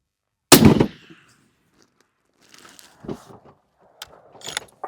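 A single sharp, loud long-range rifle shot cracks out near the start and tails off quickly, followed by quieter mechanical clicks and brief voices afterward.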